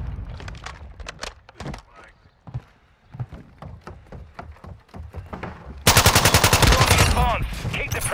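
Gunfire in Modern Warfare 2 on PS5, Kill Confirmed on the Breenbergh Hotel map: scattered sharp shots and short bursts, then a loud, dense stretch of rapid automatic fire up close, with voices heard at times.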